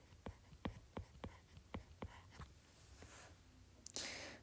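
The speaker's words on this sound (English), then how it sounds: "So let me write 纸 here." A pen strokes out the Chinese character 纸 during a language lesson, making a series of faint, quick taps and short scratches at an even pace, ending in a longer scrape, quiet and close.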